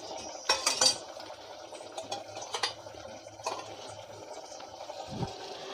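Chicken stir-frying with spices in a pan, with a faint sizzle under repeated clinks and scrapes of a metal spoon against the pan, close and irregular.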